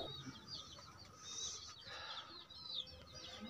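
Desi chickens cluck faintly in a pen, several soft high calls scattered over a quiet, hissy farmyard background.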